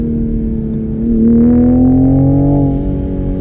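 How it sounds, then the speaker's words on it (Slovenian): A Toyota Supra engine in sport mode hums loudly up close, then revs higher and louder around the middle before easing back to a steady drone. "Veš, sam kada še šport je glasnejši"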